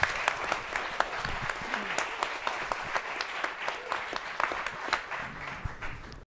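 Audience applause from a large crowd at an indie TV panel talk, a steady wash of many hands clapping, fairly close and continuous without a break.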